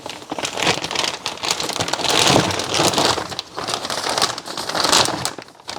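A big plastic bag around new OEM Subaru tail lights crinkles and rustles close up, with continuous crackling surges that swell and ebb for several seconds.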